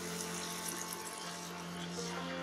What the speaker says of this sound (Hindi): थोड़ा सा पानी और डालेंगे।